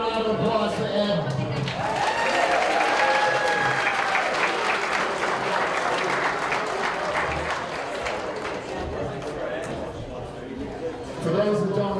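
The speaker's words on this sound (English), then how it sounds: "But can we give a round of applause for Ed?" Sustained applause from a crowd at a retirement party for a town manager, steady and dense clapping throughout with crowd chatter mixed in.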